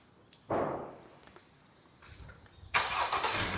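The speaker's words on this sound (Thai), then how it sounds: "กดปุ่ม Engine Start ครับ" A Honda Civic FC 1.8 EL from 2019 is started by push button: a brief starter whir, a pause, then the engine catches and settles into a steady idle, heard close with no talking.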